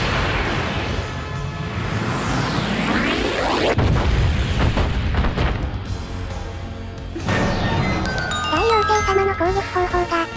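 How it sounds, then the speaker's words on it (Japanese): A giant bomb explodes in the Hyrule Warriors video game, heavy booming blasts with falling, sweeping debris tones and crashing effects, loud and layered with game music and chimes toward the end. "攻撃方法がまさかの巨大爆弾でぶっ潰す"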